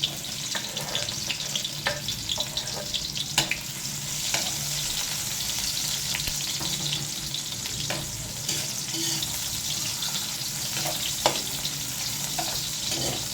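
Garlic and onion sizzle steadily in a frying pan, a continuous crackling hiss with occasional scrape-like stirring clicks throughout, close by and moderately loud, no talking.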